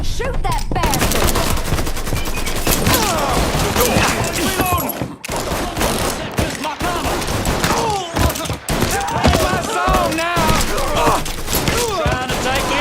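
A loud, dense Mafia III shootout keeps up continuous rapid gunfire and bursts for the whole stretch, with shouting voices over the din.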